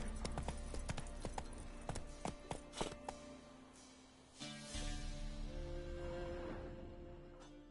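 Roach's hooves in The Witcher 3: a run of close, crisp clip-clop beats that fades out after a few seconds, followed by a steady low ambient hum.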